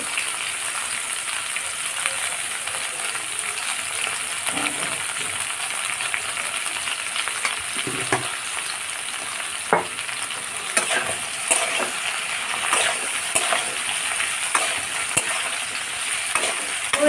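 Steady sizzling and crackling of mixed vegetables with capsicum frying in a pan, with occasional stirring scrapes, continuous and fairly close with no talking.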